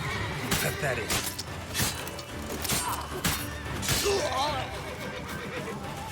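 Horse neighing in The Witcher 3 game, mixed with clattering crashes and impacts and loud game sound, with someone talking over it throughout.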